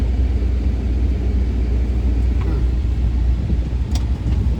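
A truck rolls over rough ground on a hunting property trail, giving a loud, continuous low engine rumble heard from inside or very near the vehicle, steady throughout.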